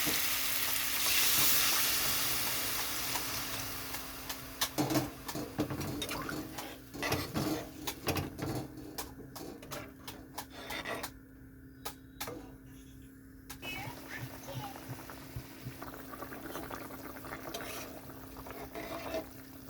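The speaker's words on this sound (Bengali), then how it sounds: "এখানে আমি দিয়ে দিচ্ছি পরিমাণ মতন জল" Water poured into a simmering potato curry (Bengali cauliflower pakora rasa) hisses and sizzles in the pot, a loud initial rush fading into scattered crackles and bubbling stirs, close by.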